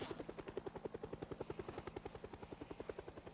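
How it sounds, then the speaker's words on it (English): A helicopter in a zombie video game chops steadily overhead, its rotor thumping in a fast, even pulse at a moderate distance, with no one speaking. "I don't think I've ignored a helicopter more than I'm ignoring this one"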